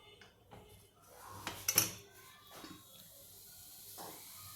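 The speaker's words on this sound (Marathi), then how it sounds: "याच्यावर परत कुकरचं झाकण लावायचं दोन मिनटासाठी" Metal pressure cooker lid set back onto a pot of cooked pea and potato rice, a brief clatter of metal on metal with a few light knocks, close and fairly quiet.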